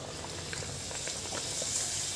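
Sabudana papad fry in hot oil in a wok, a steady close bubbling sizzle with faint pops and crackles scattered through, growing a little louder toward the end, with no talking.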